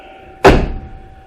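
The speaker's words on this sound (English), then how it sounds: "you see how nice that door shuts?" A car door on a 1967 Ford Galaxie shuts with a single loud, solid thunk that decays quickly, set against a quiet background hum.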